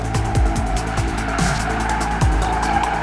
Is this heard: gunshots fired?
no